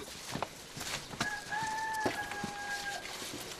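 Chickens cluck and a rooster gives a short crow in a rural outdoor setting, moderately near, with soft scattered background sounds and no talk.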